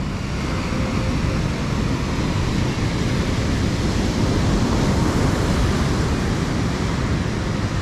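Surf rolling onto the fairly flat, wide sand of Pandansari beach in Bantul, a steady broadband wash of breaking waves mixed with wind buffeting the microphone, continuous and even throughout with no distinct individual breakers and no voices.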